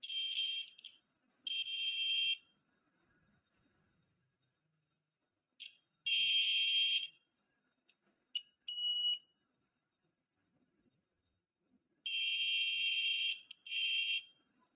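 A buzzer on a homemade NE555 continuity tester circuit sounds in loud, steady electronic beeps, some long and some short, separated by silences as it is triggered repeatedly.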